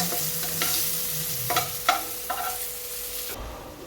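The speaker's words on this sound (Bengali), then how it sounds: "ওই তেলেই আমি দিয়ে দিলাম কিছু করে কেটে রাখা বেগুন" Cut eggplant coated in turmeric and salt fries in hot oil, giving a quiet, steady sizzle with a few sharp stirring scrapes, then stopping abruptly near the end.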